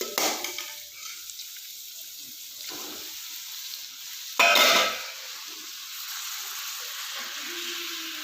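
Chowmein noodles tossed with cooked vegetables in a restaurant-style pan give a steady sizzling hiss, broken by stirring scrapes and a louder burst of frying partway through; no voices.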